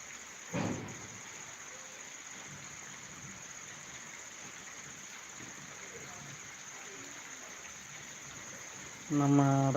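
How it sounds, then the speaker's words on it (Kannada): Steady rain falls in Raybag after two hours of continuous downpour, a dense even wash of drops close by, with a brief louder patter early on and a short voice near the end. "ಎರಡು ಗಂಟೆಯಿಂದ ಮಳೆ ಸ್ಟಾರ್ಟ್ ಆಗೈತಿ"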